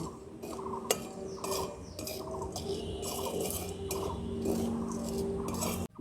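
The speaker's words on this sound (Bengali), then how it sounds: "এই নুনের মধ্যে ছোলাগুলো দেওয়ার ফলে দেখুন কি সুন্দর ফুটতে আরম্ভ করেছে ফটফট করে।" Chickpeas roasting in hot salt and sand in a pan for a spring festival snack, giving a steady rasp of stirring with scattered sharp pops and clinks throughout, close and continuous with no talking.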